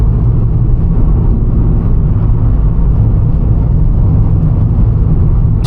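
Toyota Yaris small hatchback driving hard, giving a steady, continuous low engine and road rumble with no clear breaks, close and loud throughout.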